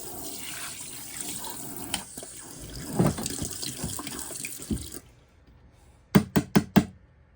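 Tap water running into a bathroom sink while a fan cover is rinsed, a steady close splashing stream that stops abruptly, followed by four quick sharp knocks as the cover is tapped dry.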